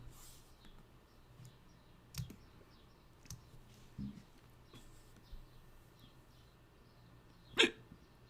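A person hiccups a few times, short sharp bursts spaced apart, with the loudest one near the end, over a quiet room with faint clicks.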